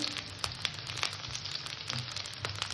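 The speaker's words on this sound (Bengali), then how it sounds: "ফুলকপি আলুটাকে একটু ভালো করে ভেজে নেব" Cauliflower florets and potato pieces fry in hot oil, giving a steady close sizzle with scattered sharp crackles and pops standing out above the hiss.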